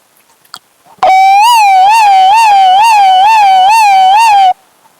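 A voice imitates an ambulance siren with a steady warbling wail that rises and falls rapidly, loud and close, lasting a few seconds without any talk.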